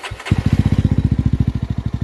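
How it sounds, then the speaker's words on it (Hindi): A 2024 Jawa 350 motorcycle with dual exhaust fires up after a brief crank and settles into a loud, close, rhythmic idle with a deep, even thumping exhaust beat. "I will start the bike to show कि हाउ इट साउंड लाइक."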